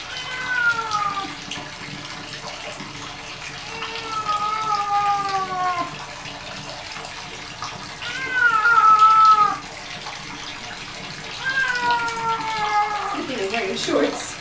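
Cat meowing loudly while being bathed, with four drawn-out, wavering protest cries spaced a few seconds apart over running water and splashing.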